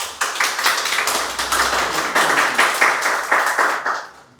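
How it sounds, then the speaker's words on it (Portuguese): A small audience claps together for about four seconds, a dense patter of individual hand claps at close range, steady and then tapering off near the end with no talk over it. "Uma salva de palmas."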